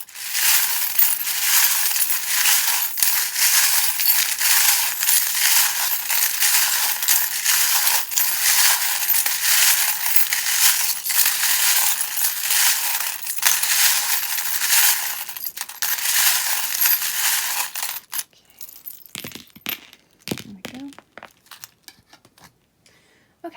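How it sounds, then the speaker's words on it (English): Small metal and glass divination charms are shuffled and rattled together in a long continuous clattering jingle for about eighteen seconds before stopping, followed by quiet handling noises. "if you don't like the sound of the charms being shuffled"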